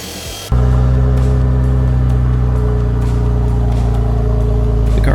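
A BMW E46 wagon with a manual gearbox and its muffler deleted idles loud and steady up close, a deep throaty drone with a low rumble that holds through the whole run after a sudden start.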